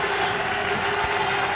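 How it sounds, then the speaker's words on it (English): Crowd at the Ford County Ground, Chelmsford, applauding a batsman's century at a cricket match, a steady broadband wash of clapping held at an even level throughout, heard from a distance. "Everyone at the Ford County ground here at Chelmsford gives him a rousing applause"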